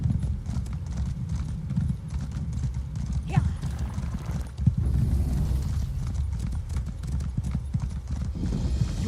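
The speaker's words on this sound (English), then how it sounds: "Horsey." Horse hooves clip-clopping in the Elder Scrolls Online game, a steady rapid trot of hoofbeats close by, continuous throughout with a brief whinny-like sound midway.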